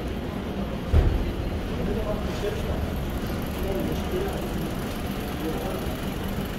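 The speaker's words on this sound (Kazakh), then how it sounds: "Мотордун иштеши жакшы." A 2020 Hyundai Solaris engine idles with the hood open, giving a steady, even low hum with no knocks or rattles, while someone talks nearby.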